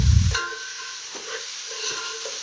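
Ginger garlic paste sautéing with onions in a pan for Hyderabadi dalcha: a loud stirring scrape at the start, then a steady, moderate sizzle and hiss with a few soft clinks, no talking.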